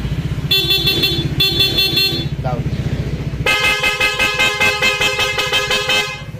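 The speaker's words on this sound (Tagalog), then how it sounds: "Nga, busina mo nga." A Honda PCX 160 scooter horn honks loudly in two short blasts, then one long sustained blare over an idling engine; a voice speaks briefly.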